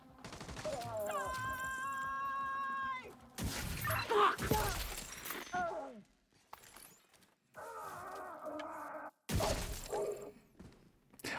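Video game gunfire crackles in sharp bursts, mixed with shattering impacts, tonal game effects and a voice speaking, close and layered over about eleven seconds.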